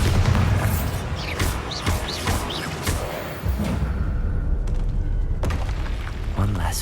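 Explosive spell impacts boom in combat in the Hogwarts Legacy video game, loud dense thuds and rumbling blasts layered with whooshes and creature sounds, a voice calling spell names over the din.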